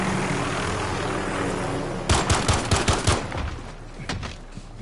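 Gunfire in a Call of Duty Modern Warfare team deathmatch, a burst of several sharp shots and booms after a steady background hum, loud and close.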